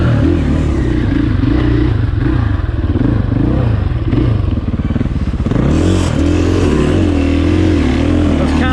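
A 2020 KTM 500 XCF-W dirt bike engine revs while being test ridden at Crow Canyon, with a loud, buzzing note that holds steady, then climbs sharply near the end, plus some clatter.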